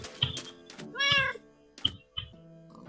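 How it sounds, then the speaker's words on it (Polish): A cat in the Minecraft video game gives a few short meows in quick succession, one drawn-out cry in the middle, with thumping game effects between them. "Kota słyszę, o jest kotek."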